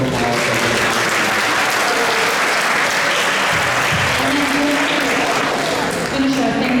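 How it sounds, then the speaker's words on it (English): Steady, dense audience applause fills a Sunday Love Feast gathering at ISKCON Toronto, loud and continuous throughout with a faint murmur of voices underneath. "let's please show our appreciation by taking our applause"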